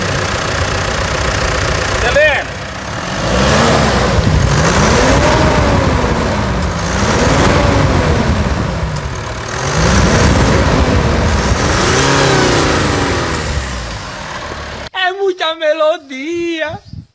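A 2021 Mitsubishi Triton pickup with the new 2.4 diesel engine runs steadily at close range, its low hum swelling in slow rev-like waves for about fifteen seconds before a brief burst of other sound at the end.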